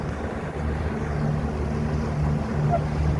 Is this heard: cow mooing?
no